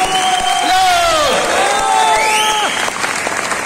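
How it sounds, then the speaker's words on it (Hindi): Audience applause and cheering for Safe Sahab at a Safe Shop business event, a dense steady clapping crowd with whoops over a loud swelling music track of sliding tones throughout. "जोरदार तालियों से सेफ साहब के लिए।"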